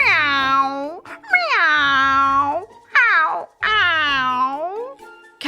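A human voice imitates a cat, giving four drawn-out, whiny meows in a row, close and loud, with brief gaps between each cry and no background sound.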